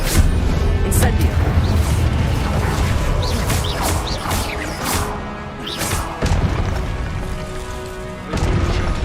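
A fire spell cast in the game Hogwarts Legacy, heard as several loud bursts and crackling blasts in a busy, continuous stream of game effects, with a voice speaking over it.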